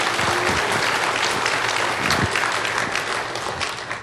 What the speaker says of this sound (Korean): 박수로 하나님 영광 드리시기 바랍니다